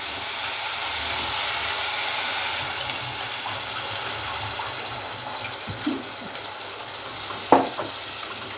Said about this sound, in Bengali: এবারে মাপ মতো গ্রেভিটা রাখার জলটা আমি দেবো।